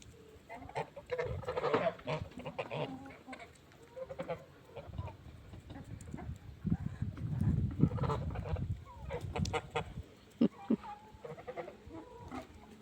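Chickens calling in a busy chorus of short clucks and honking cries, close by, with rustling and shuffling underneath.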